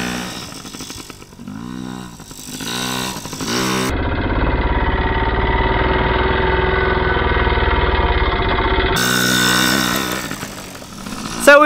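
A young child's small motorcycle, fitted with training wheels, runs on a dirt patch. Its engine gives a loud, steady buzzing drone for about five seconds in the middle, with quieter engine sound before and after.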